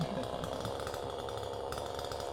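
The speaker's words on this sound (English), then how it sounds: "we're letting Dad loose with the chainsaw over there" A chainsaw runs steadily at a distance, cutting trees on a property under excavation, its buzzing drone continuous and moderately loud with no clear pauses.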